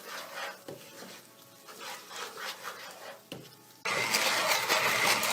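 Kitchen blender switching on at full power to mix a yogurt-based chicken kofta gravy, a loud, steady whirring that kicks in late after some quieter handling noises and runs to the end.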